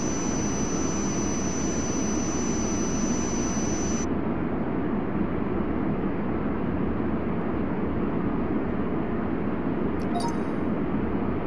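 Jet aircraft engines roar in the airport tower simulation game Tower! 2011, a steady loud broadband rumble throughout with a brief whine near the start and a short crackle late, no voices.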